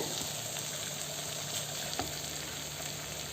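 Prawn masala for biryani, with coriander leaves just added, sizzles steadily in a pan while being stirred, a dense continuous frying hiss with faint scraping and one small clack, close and alone.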